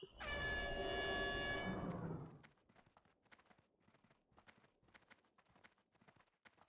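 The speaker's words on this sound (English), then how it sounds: "Yeah, that's the air horn" A loud, sustained air horn alert from a World of Warcraft raid addon blares for about two seconds, then cuts off, leaving faint scattered clicks and taps in the background.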